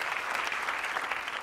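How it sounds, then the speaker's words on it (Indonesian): A TV talk show studio audience gives a short, fairly quiet burst of even applause with no speech on top. "Boleh kasih tepuk tangan buat hasil karya Indonesia juga"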